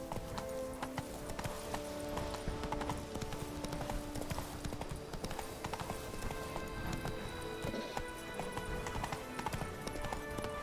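Horse hooves galloping in the video game The Witcher 3, a fast continuous clip-clop rhythm running close and steady throughout, with game music underneath.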